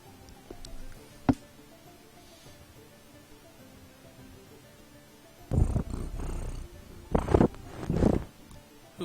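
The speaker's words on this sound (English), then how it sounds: "At least it's purring and not scratching your eyeballs out." A cat purrs right up against a microphone, a low rumbling burst starting midway and returning in two more close, loud stretches after a quiet, near-silent opening.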